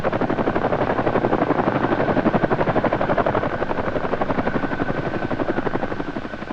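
A CH-47 helicopter hovers close by, its rotor beating in a fast, loud, steady chop that barely changes over several seconds.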